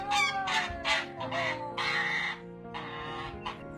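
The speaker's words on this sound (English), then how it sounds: "Looks like you're being attacked by an angry goose." An angry goose attacks a woman, giving a run of loud, harsh honking and squawking calls in several bursts close to the listener.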